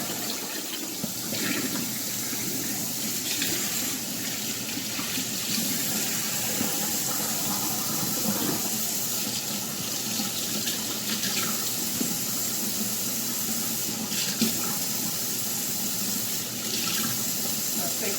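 Water is poured off thawing pork chops into a kitchen sink, a steady continuous splashing and running stream that carries on evenly for the whole stretch with no voices.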